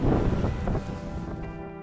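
Steady cold wind off the Arctic Ocean on the Rybachy Peninsula buffets the microphone with a low rumbling roar, loud at first and easing slightly, no voices.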